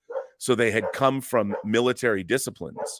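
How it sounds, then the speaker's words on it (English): Dogs bark in the background at a house with an open door, partly buried under a man's continuous close-up speech. "sorry about the dogs barking"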